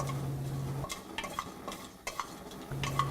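Whole spices stirred into hot coconut oil in a pressure cooker give off close metallic spoon scrapes and clinks over a faint sizzle and a low steady hum.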